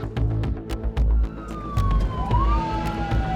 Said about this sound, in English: Those sound like military sirens.